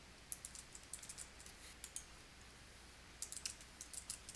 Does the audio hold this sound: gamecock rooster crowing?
no